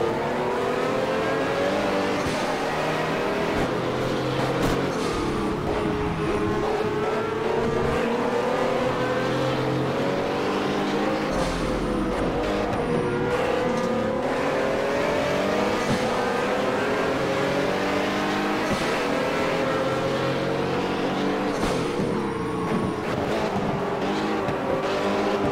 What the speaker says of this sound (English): I'll keep it quiet for a bit so you can hear the car do work. Because the sound is amazing.